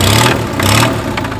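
A UAZ Bukhanka van engine on snow revs hard twice in quick succession, each loud, close surge rising and falling back toward idle, with a third shorter blip at the end.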